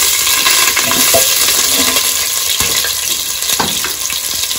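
Onion with fennel, cumin, pepper, cinnamon, clove and cardamom sizzles loudly in a pot for chicken biryani, with spoon clinks and stirring scrapes over a constant hiss.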